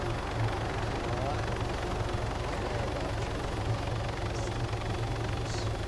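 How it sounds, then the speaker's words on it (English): A helicopter in the video game ArmA thrums with a steady low rotor chop throughout, loud and continuous, while people talk over it. "Don't you dare even take out a helicopter"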